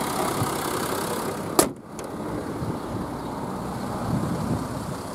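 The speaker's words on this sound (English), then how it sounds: "So a nice smooth running engine." A Range Rover Sport 3.0 SD V6 diesel engine idles smoothly as a steady, even hum with a brief sharp knock partway through, then settles back into a constant low drone.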